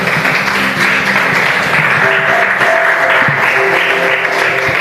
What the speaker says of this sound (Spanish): Ahora denle el mejor aplauso a la palabra de Dios.